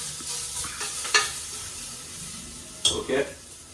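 Ginger garlic paste sautéing in a pan for a country chicken curry, a steady sizzle with a few sharp scraping stirs and clanks, close and moderately loud.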